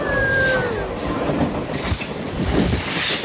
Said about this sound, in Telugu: అరే ట్రైన్ ట్రైన్